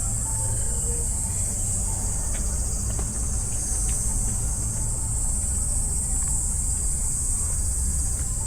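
Cicadas buzz in a garden at World Expo 2025 in Osaka, a continuous high-pitched drone that holds steady over faint background noise.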